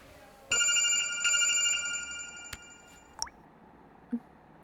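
A phone rings with a bright electronic tone, a few repeated pulses early on, then fades into quiet with a couple of small clicks.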